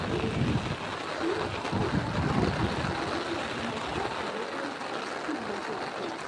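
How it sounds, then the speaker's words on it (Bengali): Steady monsoon-morning rain pours at Dankuni railway station, a continuous broadband wash of falling water without a break. "দেখতেই পাচ্ছেন বৃষ্টির ধারা অব্যাহত"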